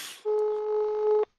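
A single steady telephone dial tone sounds for about a second, clean and close, starting abruptly after a brief noisy burst and cutting off sharply.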